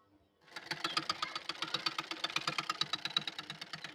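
A sewing machine stitches lace onto fabric, starting up after a brief quiet and settling into a steady, rapid chugging rhythm of needle strokes, soft and close with no talk.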